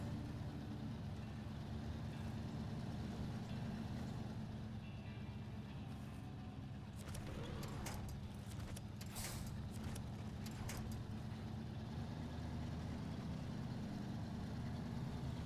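A truck with a broken gearbox crawls slowly through SnowRunner terrain, its engine a low, steady drone throughout, with a burst of faint rattling and clatter in the middle.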